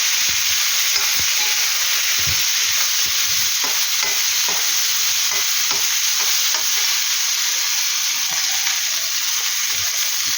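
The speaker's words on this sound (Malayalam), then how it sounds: "ഇനി ഒന്ന് നന്നായിട്ട് ഇളക്കി കൊടുക്കുക." Ivy gourd chutney ingredients stirred and sautéed in a pan, with dried red chillies and curry leaves in the mix: a steady, loud sizzle with repeated scraping spoon strokes throughout, no talking.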